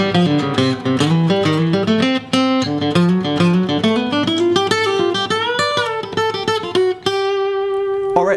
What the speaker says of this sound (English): Okay, now I'm going to demonstrate all 3 licks of our advanced series.